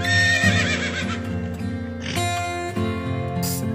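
A horse neighs and whinnies with clip-clop hooves, mixed into a loud children's phonics song with continuous music underneath.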